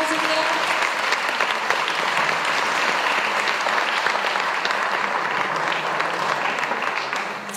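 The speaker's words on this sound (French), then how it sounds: "Je pense qu'on peut les applaudir encore très fort." A hall full of people at a conference applauds loudly and continuously, dense sustained clapping that holds steady for several seconds before easing slightly at the end.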